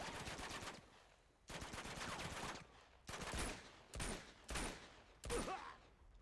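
Gunfire in the Uncharted 2 video game comes in five separate automatic bursts of rapid shots, the first two longer and the later three shorter, each separated by a brief lull; the shots are fairly faint overall.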